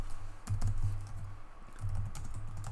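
Someone typing a keyboard shortcut on a computer keyboard, two short bursts of close key clicks separated by a pause, with a low hum underneath and no talk.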